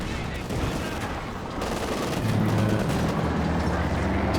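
Rapid gunfire and rattling shots plinking off a T-34 and a Panzer IV in a Company of Heroes 2 battle, a dense continuous fusillade with a low rumble swelling midway.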